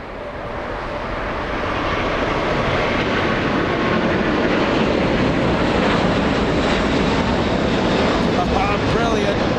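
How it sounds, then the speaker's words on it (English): A Korean Air Airbus A380 four-engine jet takes off at Los Angeles International Airport, a loud, steady broadband roar that swells over the first two seconds and then holds strong and close throughout. "Korean 18 lifting off right in front of our cameras in just a few seconds."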